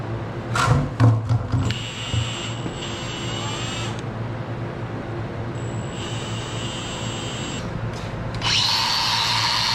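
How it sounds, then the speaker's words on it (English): Power drill backing rusted screws out of metal clamped in a vise, with a steady whining motor that starts and stops in several long runs over a low background hum, close and loud. "See if we can get those screws out of them, because they're pretty rusted."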